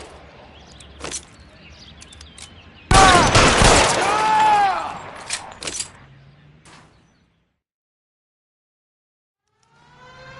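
Gunfire in the L.A. Noire video game is a sudden loud burst of shots with ringing tones, with scattered single reports and a voice before and after, then a fade into quiet.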